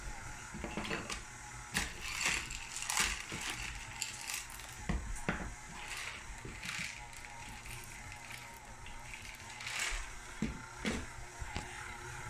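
Electric mixer beating chocolate chip cookie dough, a faint mechanical whir with light clatter and scraping under quiet kitchen sounds.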